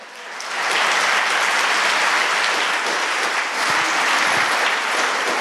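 A church congregation breaks into loud, sustained applause that swells within the first second, then holds as a dense, even roar of many hands clapping with no talking over it.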